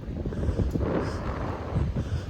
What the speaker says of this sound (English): as you can tell, it is very, windy